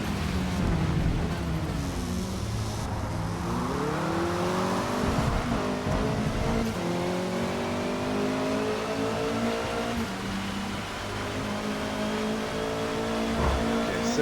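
Honda #73 Civic race car at Laguna Seca short course in Forza Motorsport, its engine revving hard through rising and falling gear sweeps, loud and continuous, with brief tire squeal.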